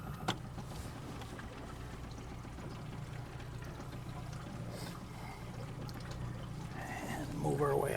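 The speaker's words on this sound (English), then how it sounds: "All right, get the motor back down." An outboard motor on a boat in Voyageurs National Park runs with a low steady drone under splashing, lapping water, growing slightly louder near the end.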